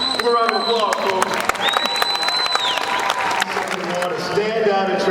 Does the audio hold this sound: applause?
yes